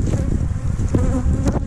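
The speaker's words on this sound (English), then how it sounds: "Try to walk away and see if the bees thin out on my face." Honey bees buzz loudly and close around a beehive box, a dense continuous drone with individual insects passing near.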